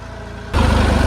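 Tractor engine pulling a plough through farm soil in L4 gear at low throttle, a steady low diesel rumble that steps up abruptly to a louder, heavier drone halfway through.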